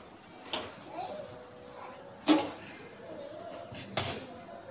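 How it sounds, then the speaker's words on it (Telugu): A small pan set on a stove while cooking Telugu pappongali: a few sharp metallic clinks and knocks, close and distinct, over quiet kitchen background with faint voices. "ఒక చిన్న బాండెల్ తీసుకొని స్టవ్ మీద పెట్టి"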